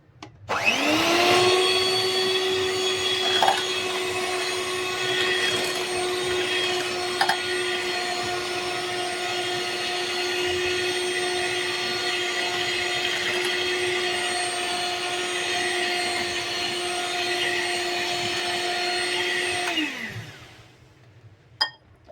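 Electric mixer whipping vanilla cake batter with oil and sugar, starting up, running as a steady high whine with a constant pitch for about twenty seconds, then winding down and stopping, loud and close.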